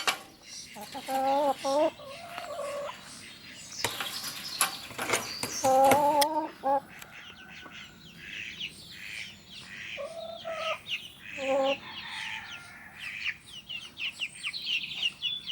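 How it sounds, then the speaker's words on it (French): Small chicks cluck and peep in short, scattered bursts, fairly faint and close, with some light rustling between calls. "je vais vous montrer mes petits poussins"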